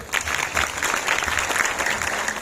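Dense, continuous applause from a crowd fills the whole moment, loud and steady with no voices standing out.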